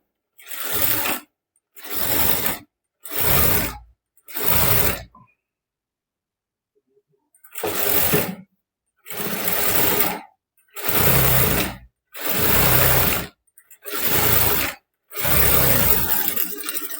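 Sewing machine stitching a blouse in short bursts of loud, close whirring, four quick runs, then a pause, then several longer runs one after another.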